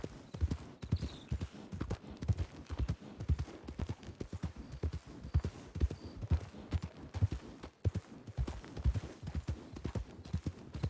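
Rapid, rhythmic clip-clop of a horse's hooves on hard ground in Red Dead Redemption 2, steady and close, continuing throughout at a brisk trotting pace.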